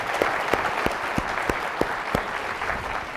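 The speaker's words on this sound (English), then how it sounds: "give them a big round of applause" A brief burst of audience clapping at a conference, many hands applauding together in a dense steady patter, close and moderately loud, with a few sharper individual claps standing out.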